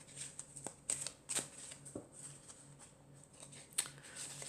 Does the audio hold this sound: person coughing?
no